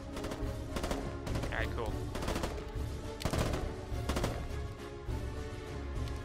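The Cascadier 873, a 12-round burst machine pistol in a video game, fires repeated loud, close three-round bursts over a noisy background, and a voice briefly speaks.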